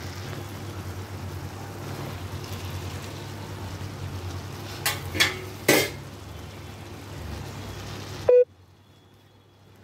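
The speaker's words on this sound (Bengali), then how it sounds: "আলুগুলো দিয়ে দেবো এতে।" Potatoes for ghugni fry in a pan with a steady low sizzle and a few short bursts as they hit the oil or are stirred, and the sound cuts off abruptly near the end.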